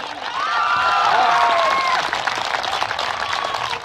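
A crowd at an evening poetry gathering honouring martyrs claps and cheers loudly, a dense sustained wash of applause with voices shouting over it.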